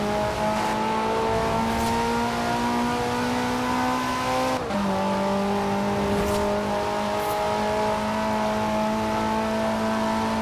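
A Maserati V8 engine in Forza Horizon 4 holds a steady, buzzy drone at high revs, not sounding like a V8, dipping briefly mid-way as if shifting gear, then carrying on.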